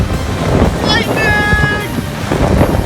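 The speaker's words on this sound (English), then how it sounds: "It's windy!" Strong wind roars across a microphone at a campsite, a constant loud buffeting rush with a voice speaking over it.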